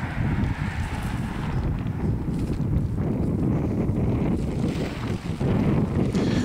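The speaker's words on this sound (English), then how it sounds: "It's a little windy today" Strong wind buffets the microphone outdoors at a campsite where a tent is set up, a loud continuous roar and rush that rises and falls slightly throughout, with no one speaking.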